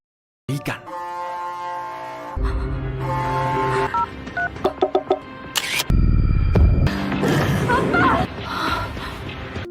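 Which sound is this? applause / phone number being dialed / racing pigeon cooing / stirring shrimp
phone number being dialed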